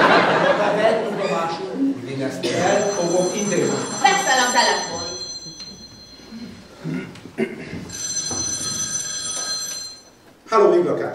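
An old-style telephone bell rings in repeated bursts during an amateur stage comedy, sounding between lively talk and laughter from performers.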